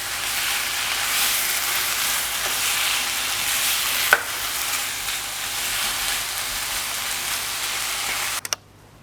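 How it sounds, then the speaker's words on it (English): Onions and spices sizzle loudly and steadily in a hot pan for chicken curry, with a brief scrape or clink midway and a couple of knocks near the end. "I've got my frying onions now."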